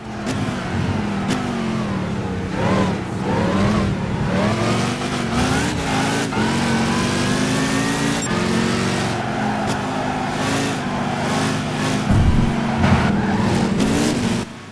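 A race car engine in Gran Turismo 5 revs loudly and continuously, its pitch sweeping up and down through gear changes as it accelerates, with no talking over it.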